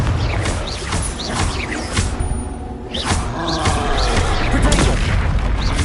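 Repeated loud booms from Confringo blast spells exploding in Hogwarts Legacy, several thudding bursts with crackling debris, mixed with a shouted voice.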